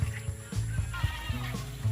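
Goats bleating on a farm in the Philippine provinces, a herd of about twenty, with several short overlapping calls in quick succession over a steady, fairly loud background.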